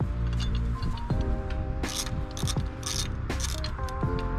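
A ratchet strap is cranked tight inside the engine bay of a 2020 Dodge, giving bursts of sharp, close ratcheting clicks over a low mechanical rumble.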